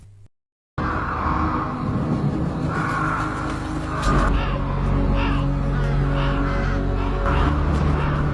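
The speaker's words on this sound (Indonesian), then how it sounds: "burung hitam di sana yang selalu terbang di atas rumahnya" Crows caw repeatedly around a house, harsh calls overlapping at close to middle distance above a steady low rumble that swells partway through.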